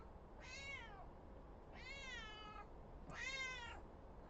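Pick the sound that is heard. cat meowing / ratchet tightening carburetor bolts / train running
cat meowing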